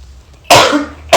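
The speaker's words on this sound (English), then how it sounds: "I had to clear my throat again." A single forceful throat clearing, then a second one starting right after a short pause. Both are close and loud, and a quiet room hum comes before them.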